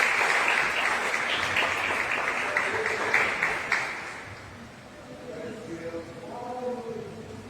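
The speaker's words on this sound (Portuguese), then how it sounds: "as palmas louvam a Deus" A church congregation at a youth group service claps together in a dense, loud burst that fades out about halfway through, after which a voice speaks quietly over the room.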